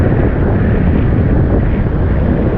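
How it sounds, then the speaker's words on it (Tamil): Strong wind buffets the microphone in a loud, continuous roar with no pauses, in Chennai. "காற்று ஒரு இதமான தென்றலாக வந்து மேலே வந்து மோதுது"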